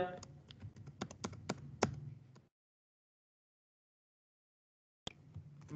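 Rapid clicks of typing on a computer keyboard come in a close, uneven burst, stop for a few seconds of silence, then resume briefly.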